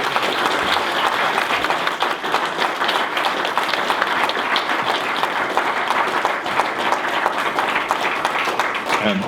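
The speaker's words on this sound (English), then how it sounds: "let's have a round of applause for our panelists" Audience at a school board candidate forum in Edina applauding the panelists: dense, steady clapping from many hands, loud and sustained throughout with no pauses.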